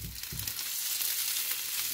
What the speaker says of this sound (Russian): Сковорода горячая. Добавляю кусочек сливочного масла и отправляю картофель.